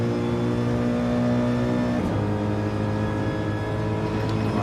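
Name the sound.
GT3 race cars at Watkins Glen in a racing video game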